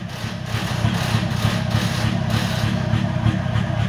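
A diesel TDI car engine runs loud and close through an unusual aftermarket exhaust, a rough rhythmic pulsing rumble held steady for a few seconds, with no talking.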